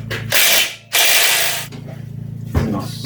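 Ratchet wrench tightening a bolt on a Suzuki DR200 motorcycle in a workshop, loud bursts of rapid clicking, a short pause, then a steadier run of ratcheting with a brief knock near the end.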